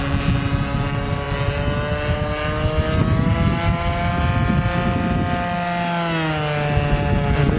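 A giant Carl Goldberg Tiger 120 RC model airplane with a converted Homelite 30 gas engine drones loudly and steadily overhead, its buzzing pitch shifting slightly as it passes, with no voices.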